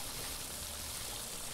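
Water pours into a space in the puzzle-platformer Vessel, a steady close rushing flow with a bright hiss, continuous and even throughout with no talk.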